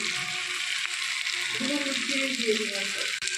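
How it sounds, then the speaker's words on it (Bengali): Chopped ginger and garlic are stirred in hot oil for a fish-head and kohlrabi curry, giving a steady, close sizzle with a voice speaking briefly partway through. "এই দেখুন আদা রসুনটা একটু নেড়ে নিল তেলের মধ্যে"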